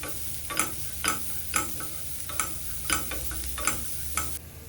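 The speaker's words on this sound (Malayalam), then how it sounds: "അതൊന്ന് സോഫ്റ്റ് ആവുന്നവരെ വഴറ്റി എടുക്കുക." Vegetables for vegetable rava upma are sautéed in a pan, with a utensil scraping and tossing in regular strokes about twice a second over a faint steady sizzle, no talk.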